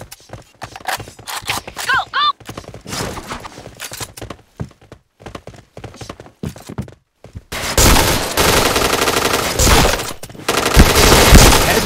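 T77 rifle fire in a mobile shooter game sounds in rapid, loud bursts of near gunshots, broken by short gaps, then becomes a dense sustained barrage in the last few seconds.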